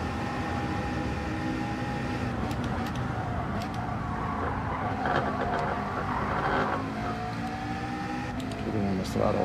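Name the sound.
race car engine accelerating in a racing video game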